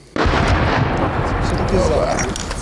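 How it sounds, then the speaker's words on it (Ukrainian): A single artillery ranging shot lands about 300 metres away in open ground at Pisky, a sudden loud boom whose broad rumble rolls on steadily for a couple of seconds. "Насправді цей салют то перший пристрілочний постріл."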